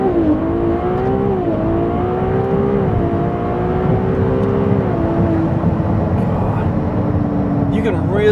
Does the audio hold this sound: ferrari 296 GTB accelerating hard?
yes